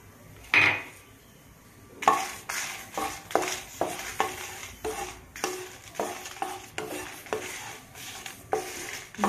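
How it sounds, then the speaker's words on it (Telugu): Dried red chillies frying in a pan while making Tamil Nadu sambar powder, with a series of regular scraping stirs and light sizzling, close and fairly loud, no talk. "లాస్ట్ ఎండుమిరగాయలు వేయించుకుందామండి."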